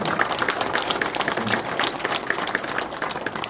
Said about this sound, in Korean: 여러분들 뜨거운 박수로 한 번 더 환영드립니다